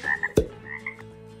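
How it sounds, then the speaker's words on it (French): Frog croak as a board game sound effect: one loud, deep croak in the middle, close and isolated, framed by soft chirping tones with no voices. "la grenouille"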